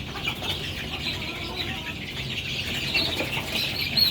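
Many young KUB chicks cheep continuously in a dense, high-pitched chorus, fairly loud and close, over a steady background hiss.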